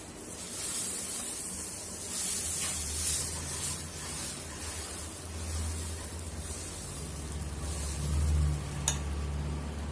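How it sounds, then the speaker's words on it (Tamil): Wheat and egg dosa batter sizzles and hisses steadily on a hot pan, a close, continuous frying crackle with no talking. "இப்போ தோசையை ஊற்றிக்கலாம்."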